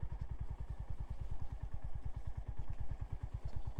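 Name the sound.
Honda GB350 motorcycle riding in second gear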